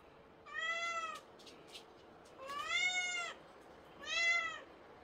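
A house cat in a room shared with many cats meows three times, each call drawn out and rising and falling, clear and fairly close against a quiet background.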